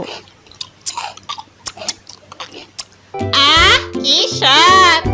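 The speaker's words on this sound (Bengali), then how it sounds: "মজা করে কচকচ করে চিবিয়ে খেতে লাগলো" Crisp, crunchy chewing comes in irregular bites for a few seconds, followed by a child's high-pitched voice speaking.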